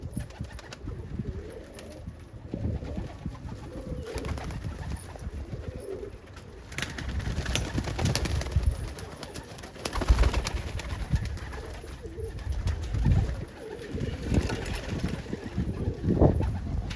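Pigeons of almond and kite breeds coo repeatedly in low, rolling calls, close and clear, with faint background hum and occasional rustling.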